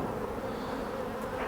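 Honey bees buzz in an open hive being worked with a hive tool, a dense, steady, close hum with no voices.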